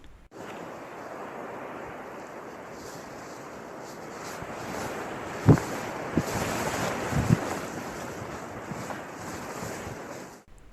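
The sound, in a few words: wind at an exposed reservoir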